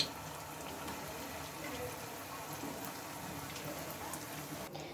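Raw-banana sweets deep-frying in hot oil give a steady, dense crackle and bubbling that runs evenly throughout at moderate volume, with no clear talk over it.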